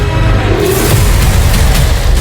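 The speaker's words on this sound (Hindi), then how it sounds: "कंबोडिया ने थाईलैंड की तरफ तोप का मुंह खोल दिया" Cambodian army artillery cannon firing toward Thailand, heard as a loud, sustained low boom and rumble that fills the whole stretch without a separate sharp blast.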